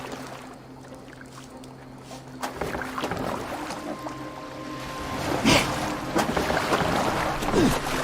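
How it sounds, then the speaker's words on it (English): Rowing a boat on water in Assassin's Creed Valhalla: oar strokes and splashing swell into a steady wash over wind and ambient hum, growing louder in the second half with faint game noise around it. "Are you well enough to steer this boat?"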